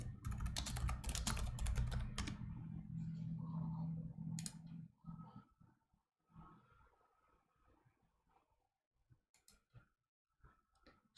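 Rapid clicky typing on a computer keyboard during a model kit build session, dense bursts of keystrokes for several seconds, then sparser scattered taps and quieter handling noises trailing off.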